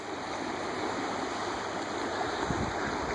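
Floodwater rushes over a rural driveway like a raging river, a loud, steady, close roar of churning water that fills the whole moment without pause.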